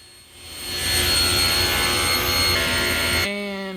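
A table saw spins up and cuts through a wooden hexagonal humidor box to take off the lid, a loud steady whine with a rough rasping edge that stops abruptly near the end as the blade winds down.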